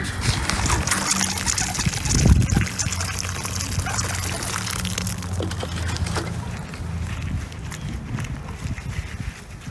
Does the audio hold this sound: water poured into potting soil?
yes